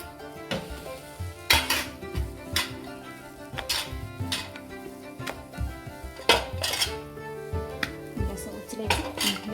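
Dhapate flatbread dough is rolled out on an oiled surface with a rolling pin, giving repeated knocks and clatters of pin against board every second or so, with steady kitchen clinking and no talk.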